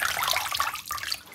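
Water running from a kitchen tap while making sea moss gel, a close, splashy hiss that wavers briefly and then continues.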